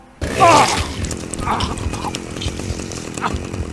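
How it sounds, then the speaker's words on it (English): A chainsaw roars into a violent kill in the Manhunt video game, a loud sudden burst of buzzing engine noise that stays steady and harsh for several seconds, mixed with game sound effects. "He then drives a chainsaw into his face, killing him."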